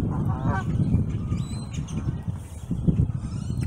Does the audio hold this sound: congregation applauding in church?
no